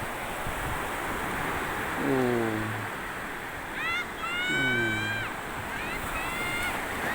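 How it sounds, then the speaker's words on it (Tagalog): Sea surf rolling onto a beach forms a steady wash of broadband noise with gusts of wind on the microphone, while a man exclaims briefly over it at moments. "Ang ganda ng dagat, oh."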